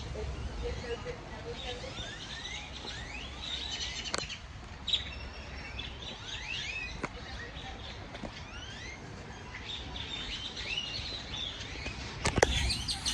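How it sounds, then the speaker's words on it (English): Birds chirp and tweet outdoors in repeated short calls spread across the scene, a fairly faint chorus over steady background noise with a couple of sharp knocks. "A lot of birds out."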